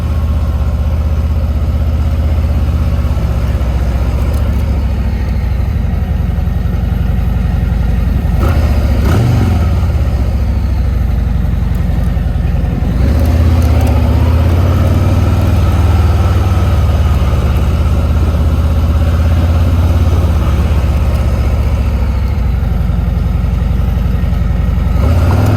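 A Harley-Davidson motorcycle bought from Copart rumbles at a loud, close idle with a deep low throb, broken by a few blips of the throttle and occasional rattles.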